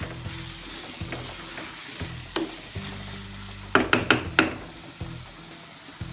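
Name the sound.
stirring prawn roast in a hot pan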